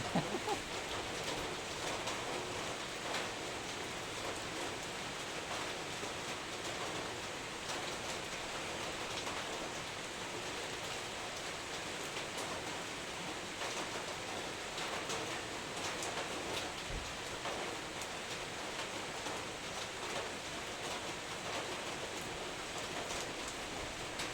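Steady rain falls outdoors after a heavy downpour of about 45 minutes, now easing toward a drizzle. It makes a continuous, even hiss of drops on surfaces with no voices.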